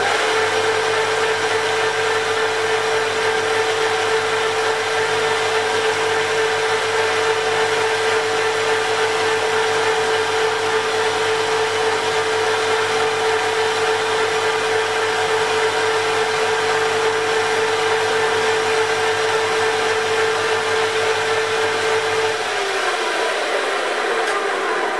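A lathe takes a light skim cut on a valve for a 1/3 scale Fairbanks 3hp model engine, giving a steady, loud machine whir with a constant hum. The hum drops off near the end, with no talk.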